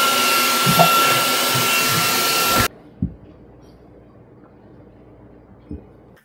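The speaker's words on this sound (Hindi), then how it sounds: "हैंड वैक्यूम चाहिए क्लीन करने के लिए" A handheld vacuum cleaner runs loud and close with a steady whining roar during household cleaning, then cuts off abruptly, leaving quiet room noise and a couple of soft knocks.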